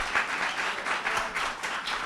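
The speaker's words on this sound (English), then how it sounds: "please give a round of applause for our speakers" Audience applause for speakers at a lightning-talk session, a steady, dense patter of clapping from a crowd held at an even level for the full stretch, with no voices over it.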